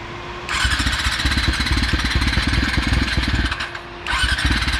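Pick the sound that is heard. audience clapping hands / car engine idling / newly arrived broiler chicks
car engine idling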